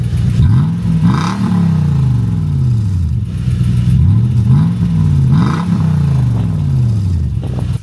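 A Lexus GX470's engine revs loudly through its new aftermarket exhaust, rising and falling in about three throaty surges with a raspy, rumbling tone, close by.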